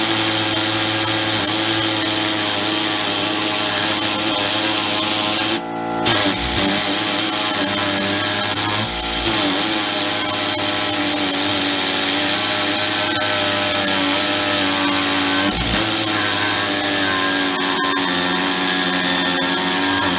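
Harbor Freight high speed metal saw cutting metal, a loud continuous abrasive whine and grind with steady harmonic tones, broken by a few brief dips as the blade bites, close and with no talking.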